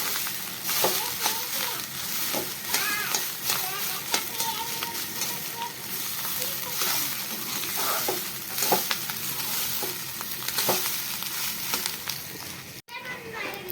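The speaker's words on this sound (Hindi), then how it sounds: "अब मैं इसको अच्छे से फ्राई कर लूँगी।" Rice with red chilli fries in a pan, crackling and sizzling steadily while a utensil stirs and scrapes at intervals; a voice and other faint talk come through in the background.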